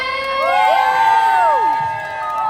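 Crowd cheering and whooping for a Miss Grand Thailand 2024 contestant, from Phatthalung, during a self-introduction practice, with sustained high voices and whistle-like calls forming a continuous loud wash.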